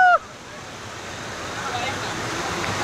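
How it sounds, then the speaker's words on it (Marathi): Bhaje waterfall near Karla, a steady broadband roar of falling water building slightly louder, following a brief voice at the very start. "मित्रांनो, एक नंबर वॉटरफॉल आहे, एक नंबर."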